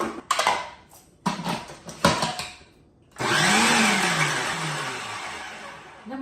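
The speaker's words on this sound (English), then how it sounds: "We're going to blend them up." Hard-boiled eggs are blended for homemade mayonnaise, starting with several short choppy pulses of the motor and then a long continuous whirring run that rises and gradually eases, loud and close.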